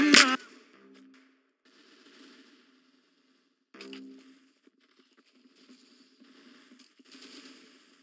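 Gunfire in the Roblox shooter Arsenal, a sharp loud burst at the start followed by sparse, softer rattling shots and mechanical clatter separated by near silence.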